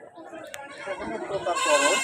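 A young goat kid, a Totapuri cross, bleats at a Natore goat market, a thin cry rising near the end while someone talks nearby.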